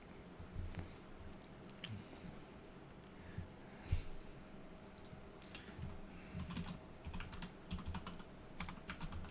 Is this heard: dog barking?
no